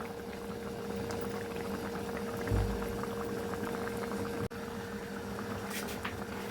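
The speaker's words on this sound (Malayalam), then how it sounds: "ചട്ടി ചൂടുള്ളത് കൊണ്ടാണ് ഇങ്ങനെ തിളയ്ക്കുന്നത്." Fish curry with curry leaves bubbling and boiling in a hot clay pot, a steady close simmering gurgle with soft popping, briefly broken by a low thump and a sharp click.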